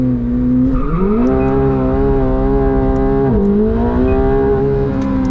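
A McLaren 750S revs hard through its gears at Las Vegas Motor Speedway, a loud, close engine note that climbs steadily, then drops with quick upshifts at two points before rising again.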